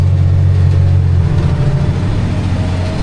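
A tractor engine pulls a Massey planter at about eight miles an hour, making a loud, steady low drone that close by carries the strain of working under load, with no voices.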